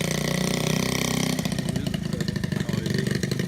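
A 1970 Honda Z50 K1 mini trail bike's small engine runs in second gear, a close, buzzy, chattering putter that changes pitch partway through as the throttle shifts.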